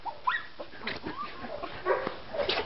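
Small dogs give high yips, short barks and thin whimpers close by in a kennel or daycare setting, overlapping in uneven bursts with no talking.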